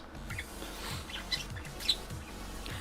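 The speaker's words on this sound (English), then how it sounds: "What birds do I have? I have 2 budgies." Two pet budgies chirp indoors: faint, brief tweets and squeaks come now and then over a steady low hum, such as a room fan, with no talking.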